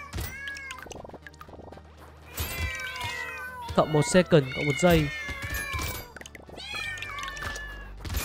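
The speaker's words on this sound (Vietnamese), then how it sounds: "Cái vũ khí để đánh kêu toàn tiếng mèo ạ." Cat-meow weapon sounds from the video game Brotato ring out in bursts, rising and falling mews clustered amid game hits, with someone talking briefly over them.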